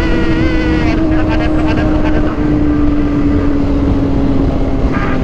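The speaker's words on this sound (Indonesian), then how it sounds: "Kencang motornya" Several Kawasaki ZX25R motorcycles ride fast on a touring run along a highway, with loud, high-revving engine whine throughout and people talking over it.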